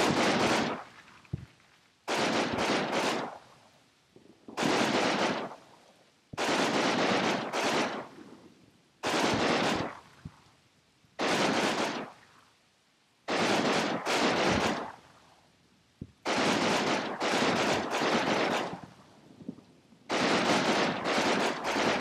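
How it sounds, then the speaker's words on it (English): Machine gun fire in the World War II video game Combat Mission Battle for Normandy comes in repeated sharp bursts of a few seconds each, separated by short quiet gaps, fairly close and without speech. "there's a machine gun firing at me"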